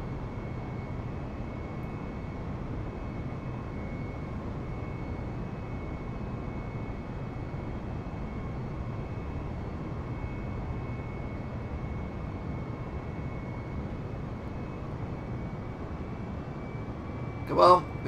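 Airbus jet engine in Microsoft Flight Simulator, a steady broadband roar with a faint tonal whine running unchanged throughout, with a brief louder click near the end.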